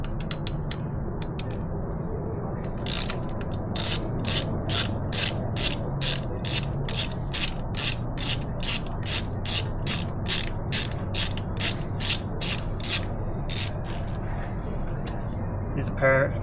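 On a 2023 Ducati Panigale V4S, a ratchet wrench turns to loosen the front wheel screws. It makes a rapid, even run of sharp clicks, close and clear over a low background hum.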